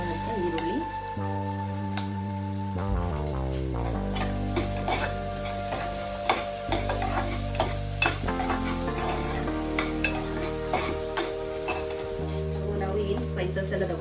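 Green chillies and chopped onions sizzle and fry in hot oil while being stirred, with steady loud crackling, scraping of a utensil against the pan and occasional clinks, heard up close.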